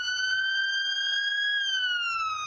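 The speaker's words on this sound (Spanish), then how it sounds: "Cuando una ambulancia se acerca a nosotros, la longitud de onda de la sirena se comprime." An ambulance siren holding a steady wail that then slides down in pitch as it passes and moves away, loud and clear, with faint rumble at the start and end.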